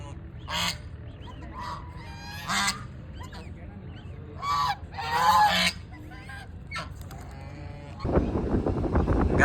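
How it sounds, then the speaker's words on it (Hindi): A hungry duck by a river gives loud, honking calls in several separate bursts, close to the listener, followed by a rush of louder rustling and noise near the end. "ये देखो गाइस, ध्यान से देखो, ये होती है भूखी बतख।"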